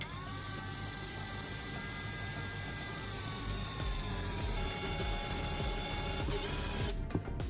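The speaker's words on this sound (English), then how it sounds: "To securely hold them in place and prevent them from slipping or tangling, I'm driving a small screw right through the center, clamping both wires firmly." A small screw being driven through the center of a cap to clamp two cords, a steady close whirring drone from a powered driver running for several seconds before it stops with a brief rattle.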